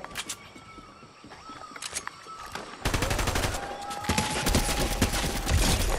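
Fortnite battle royale gunfire, sharp shots crackling at first sparse and distant, then thickening into rapid, louder volleys in the second half, with a faint whistling tone running underneath.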